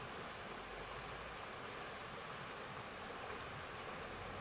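The main river at Thredbo, an Australian ski resort, rushes in a steady, broad, continuous wash of flowing water, faint and unbroken with no voices.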